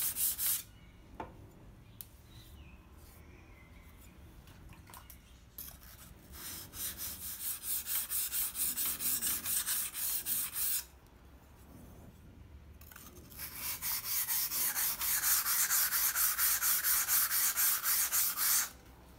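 A hard alloy steel Taiwan cleaver blade is abraded during refurbishing, with long, loud rhythmic grinding strokes in two sustained bursts separated by quieter handling.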